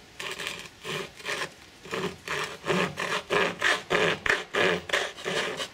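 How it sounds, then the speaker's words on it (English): Sandpaper rubbing back and forth over a hacksaw-cut wooden cigar box guitar part, about a dozen steady rasping strokes in a regular rhythm, close and fairly loud with no talking. "So we just need to sand it down a little bit."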